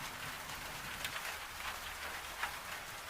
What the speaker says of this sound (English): the rain on the roof is just the world doing what it does